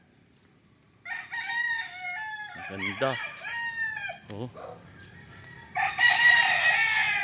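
Roosters on a chicken farm let out several loud, harmonic crows, close and overlapping, mixed with shorter clucks, and a man makes brief remarks between them.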